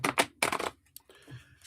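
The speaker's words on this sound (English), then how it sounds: "If I can shuffle the cards" A quick deck of cards being shuffled up close, two bursts of riffling followed by softer rustling and a light tap.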